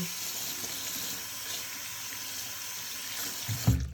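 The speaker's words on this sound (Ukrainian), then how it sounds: "ми їх зараз просто змиваємо водою." Running water from a tap pours steadily as cut makeup sponges are rinsed beneath it, with a brief squeeze and splash near the end.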